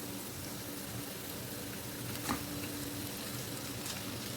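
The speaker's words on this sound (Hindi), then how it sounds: "तो इनको भी हम अच्छे से फ्राई करेंगे।" Small chicken pieces fry in a pan with a steady, even sizzle and hiss that stays constant throughout, with one faint scrape in the middle.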